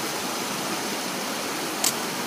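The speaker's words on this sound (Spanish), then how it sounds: "No sé por qué coño se está saliendo el agua" Water gushing steadily from a leaking pipe or hose in the Colombian countryside, a continuous broadband rush like a small stream, with a brief sharper splash near the end.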